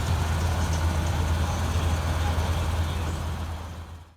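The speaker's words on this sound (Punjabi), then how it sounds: "ਉਧਰੋਂ ਟਰੈਕਟਰ ਵੀ ਆ ਗਿਆ" A tractor engine runs in a wheat field during harvest. It gives a steady, loud, low diesel drone that holds throughout and fades slightly at the end.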